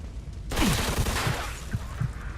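Sustained burst of machine gun fire in the Mafia II: Definitive Edition video game, a dense loud roar of rapid shots with a few heavier thumps, with no talking.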